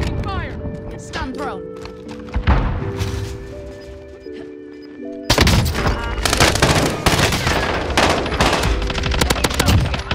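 Bursts of automatic gunfire and single shots in Call of Duty: Warzone, sparse at first, then a loud, dense barrage in the second half, with a player talking over the shooting.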